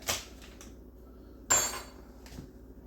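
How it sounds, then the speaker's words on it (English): A utensil mixes sharp cheddar cheese into a pot of mac and cheese chicken soup, making two sharp metallic clinks against the pot, with softer scrapes between them and quiet in the gaps. "We're gonna mix the cheddar."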